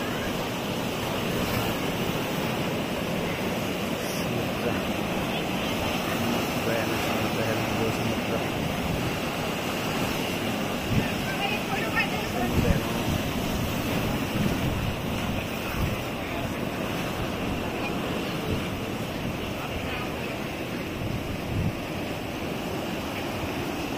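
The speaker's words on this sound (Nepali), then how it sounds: "ढुङ्गामा छोडेर जान्छ समुद्रले पानी समुद्रको छाल" Sea waves break on a rocky shore at Diu, a steady, dense roar of surf that fills the whole stretch, mixed with wind buffeting the microphone and faint voices in the background.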